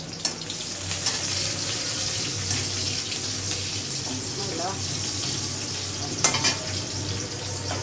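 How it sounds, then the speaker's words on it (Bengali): Shrimp fry in a pan for a taro-leaf dish, a steady bright sizzle with scraping and stirring clatter, including a sharp knock near the six-second mark; a voice murmurs faintly underneath. "একটু চিংড়ি মাছটা ভুনা করে"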